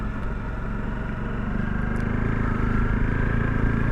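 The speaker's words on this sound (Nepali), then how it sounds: "आज एकदमै धेरै दिनपछि टक्क आफ्नो बाइकमा है" A motorbike rides on a road near Bhaktapur in Nepal. The engine drones steadily and close, with a low continuous hum and road noise that builds slightly over a few seconds.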